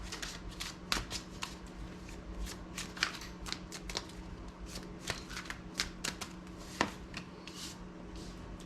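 A tarot deck of slightly oversized cards shuffled by hand, a continuous run of close, quiet riffling flicks and soft slaps with irregular sharper snaps, no voice present.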